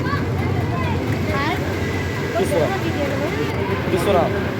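A motorized wooden passenger boat pulls away from a river launch ghat, its engine a steady low drone beneath wind and water noise, with faint distant chatter.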